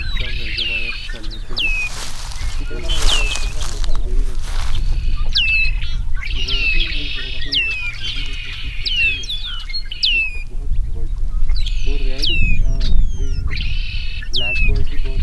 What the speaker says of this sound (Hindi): झाड़ियों में बर्ड से बहुत अच्छी अच्छी आवाज आ रही है उधर से